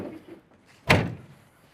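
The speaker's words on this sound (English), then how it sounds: "Doors open and close good." Door of a 1980 Trans Am restomod swinging shut with a single solid thunk after a soft creak and rustle, close by and loud, with a short echo that trails away.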